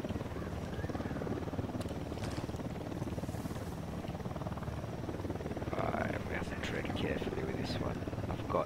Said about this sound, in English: We'll need that chopper.